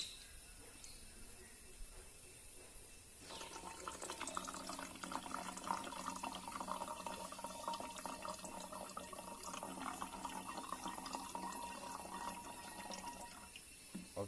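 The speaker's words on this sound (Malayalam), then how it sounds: "ഈ ബോട്ടിലേക്ക് ആദ്യം നമ്മൾ പഞ്ചസാരയും അതുപോലെ തന്നെ നാരങ്ങയും മിക്സ് ചെയ്ത ഇതൊന്ന് ഒഴിക്കാം" A sugar and lemon mixture poured into a 7UP bottle for homemade soda: steady liquid filling that starts after a few seconds of quiet and runs continuously, close and fairly soft.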